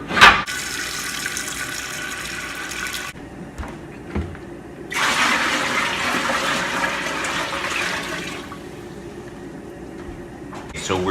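Cold tap water gushes into a pot for washing green beans in hard bursts that pause and start again, with sink splashing throughout.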